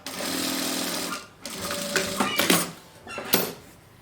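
Sewing machine stitching back and forth to lock the seam where dish towel fabric pieces meet, bursts of fast mechanical whirring broken by short pauses and fabric handling, close and fairly loud.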